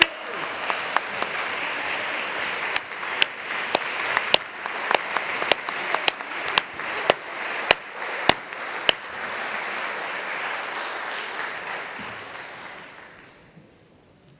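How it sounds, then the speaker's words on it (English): A rally crowd for affordable housing applauds steadily in a dense wash of clapping, with sharp louder claps popping out above it; the applause fades out near the end. "I need everybody to stand up and clap your hands."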